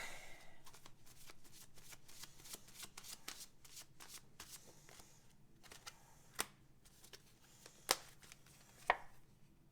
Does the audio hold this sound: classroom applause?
no